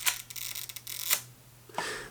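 A Voigtlander Bessa 6x9 medium format folding camera shutter fires at a slow speed: a quiet opening click, roughly a second's pause, then a closing click, heard close up and alone.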